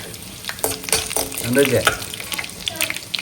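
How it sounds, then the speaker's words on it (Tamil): Mixer-ground garlic fries in hot oil in a home kitchen, a crackling sizzle with scraping stir strokes, close and fairly loud throughout. "இப்ப நம்ம மிக்சியில அரைச்சதுனால இந்த பூண்டு எண்ணெயிலே வேகிற மாதிரி வேக வச்சிருந்தோம்."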